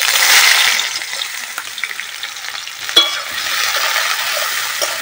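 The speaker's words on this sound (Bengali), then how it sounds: "তেলটা গরম হয়ে গেছে, এখন পেঁয়াজ কুচিগুলো দিয়ে দিব।" Chopped onions land in hot oil in a heated kadai, a loud initial hiss settling into a continuous close sizzle with light crackles and one sharp tap of a utensil partway through.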